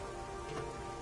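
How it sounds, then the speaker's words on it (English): Rain falls in the video game Master Detective Archives: Rain Code, a steady, even hiss of drops on surfaces. It is fairly quiet and constant, with no voices. "starting to feel like the rain isn't so bad"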